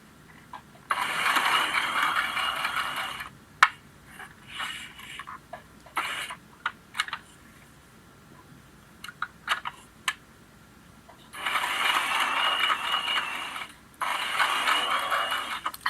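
A sewing machine zigzag stitching lace onto menstrual underwear, two long steady runs of fast mechanical whirring separated by clicks and handling ticks, close and alone.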